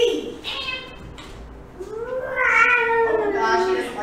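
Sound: cat meowing

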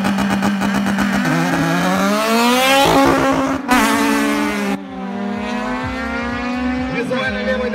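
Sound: race car at drag start

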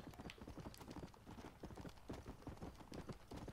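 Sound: horse hooves while riding in the video game Red Dead Redemption

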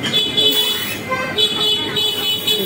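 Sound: car horns honking in a Xiamen street

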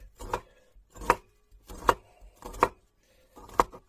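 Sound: cutting dough with a knife

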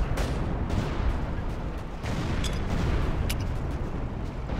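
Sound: bullets and shells fired in Battlefield video game

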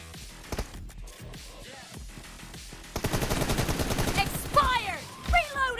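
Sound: gunfire in an FPP TDM match, from a video game

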